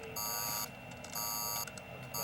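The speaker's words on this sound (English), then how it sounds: "We're showing an alarm in Sector 3." An electronic alarm blares in Sector 3 in an action sci-fi disaster film. It comes as repeated harsh, high buzzing tones in three even bursts, each about half a second long, separated by brief gaps over a low background hum.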